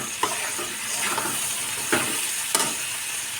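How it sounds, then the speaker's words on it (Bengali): Vegetables, among them soft-cooked mukhi potatoes, frying in oil in a pan for a spicy fish curry, giving a steady close sizzle broken by a few sharp stirring scrapes, with no talking. "ভাজাটাও প্রায় হয়ে এসছে আমার।"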